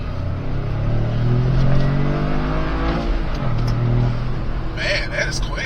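A Toyota GR Corolla's three-cylinder engine accelerating hard through the gears, a loud throaty rising drone with a brief dip at a shift before climbing again, heard from inside the car.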